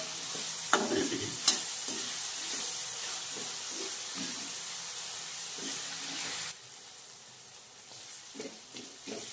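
Egg fry cooks in a pan with a continuous close sizzle and hiss, broken by scraping stirs and a few sharp spatula knocks; the sizzle eases noticeably in the last few seconds.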